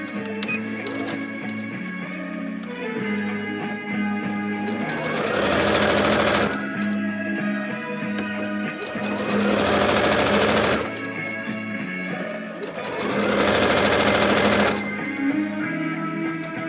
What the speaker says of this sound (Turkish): Şimdi yarım santimden dikiyorum.